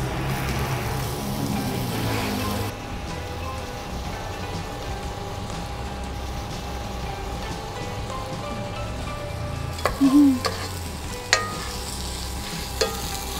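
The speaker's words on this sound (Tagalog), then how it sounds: "Fry ko ng konti yung ating tofu." Tofu frying in a pan for lumpiang pancit, a steady crackling sizzle broken by a few louder scraping stirs and clinks toward the end, with no talk.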